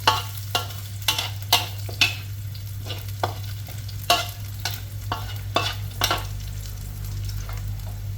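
Shiitake mushrooms stir-fried in a pan give a low sizzle under repeated sharp scrapes and knocks of a spatula, about one every half second, close and clear, with a steady hum beneath.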